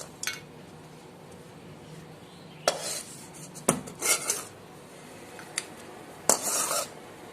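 Roasted raisins for semiya milk payasam are moved into another vessel. A spoon gives several quiet, separate bursts of metallic scraping and clinking against the pan, with hushed pauses between them and no talk.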